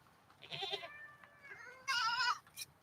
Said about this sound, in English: These Chantangi breed of goats grows a thick undercoat of hair